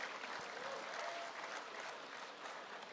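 Crowd clapping and cheering for Class 2 podium finishers at the Finke Desert Race presentation, a steady dense wash of applause throughout, moderately loud.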